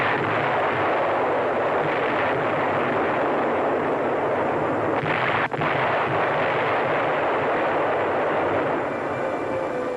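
WWII artillery fire around a German-held town, a dense, continuous roar of distant barrage with rumbling low end and one sharp brief crack midway, no voices.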